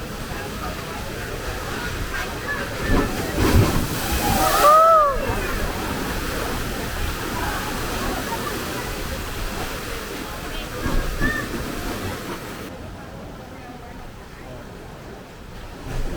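Ocean waves surge into the granite inlet of Thunder Hole on the Acadia coast, a continuous rushing wash with a swelling boom midway, while a voice talks over it.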